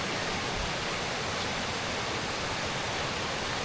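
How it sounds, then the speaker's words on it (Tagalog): Steady, full-bodied rushing of a flowing river near Mt. Pinatubo, an active volcano, a continuous loud watery hiss with a low rumble beneath and no breaks. "Ang ganda ng ilog, guys."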